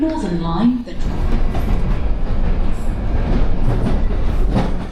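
A London Underground metro train rumbles along at a steady, loud level, with a voice heard briefly over the noise at the start.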